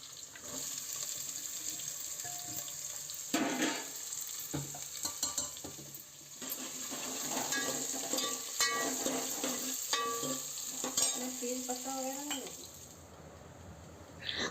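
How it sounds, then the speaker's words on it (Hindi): Dal is tempered in a home kitchen pan, with spices sizzling and crackling under stirring, a running tap and clattering utensils close by. "तो दाल छौंक दी है।"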